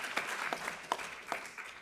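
A small comedy-show audience claps, the applause sparse and uneven with individual hand claps standing out as a short, thin burst of clapping.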